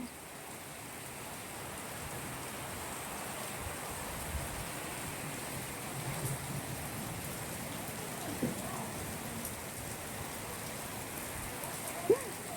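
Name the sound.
heavy rain falling in Dhaka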